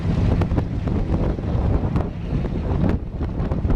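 A slight breeze on a humid morning on the Mekong River, buffeting the microphone as steady, rumbling wind noise with faint water sounds beneath, no talking.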